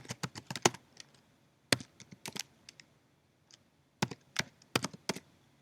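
A computer keyboard is typed on in quick bursts of close, crisp key clicks separated by short pauses, entering text into a JavaScript browser console, with no talking.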